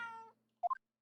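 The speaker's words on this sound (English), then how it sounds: "Oh, look, it's that lovely little kitty cat" A small cat in The Great Ace Attorney Chronicles gives a quick, light two-part meow, clear and alone, just after a short fading tonal sound.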